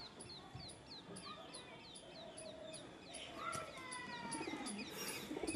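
Faint cooing from pigeons kept at home, among them a flying breed, comes from a little distance, mixed with light chirps and other soft bird calls.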